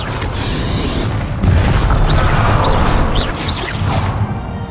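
Confringo spell blasts in the Hogwarts Legacy video game: booming, crashing impacts with whooshes, loud and continuous, with a heavier burst partway through and several quick flaring hits afterward.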